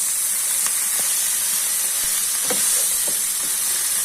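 Egg fried rice being stirred and mixed in a hot pan, giving a steady loud sizzle and hiss throughout with a few faint scraping and clinking knocks of the utensil, no voices.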